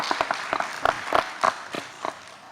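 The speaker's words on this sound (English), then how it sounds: "Round of applause for the awesome questions that came from our panelists" An audience at a televised state senate debate applauds the panelists, with scattered, fairly close hand claps coming in uneven bursts rather than a full, continuous ovation.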